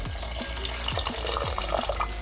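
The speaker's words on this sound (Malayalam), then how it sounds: "ആവശ്യത്തിനുള്ള വെള്ളം നമുക്ക് ഒഴിച്ചു കൊടുക്കാം." Water pours into a pot of catfish curry, with a series of gurgling, rising glugs as the liquid fills it, close and steady.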